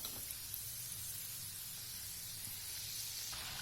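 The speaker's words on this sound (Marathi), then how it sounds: "छान गोल्डन ब्राऊन होईपर्यंत आपल्याला ह्या तळून घ्यायच्या आहे" Sambharwadi, a Vidarbha-style stuffed snack, deep-frying in hot oil, giving a steady, even sizzling hiss that runs unbroken throughout at close range, with no voices.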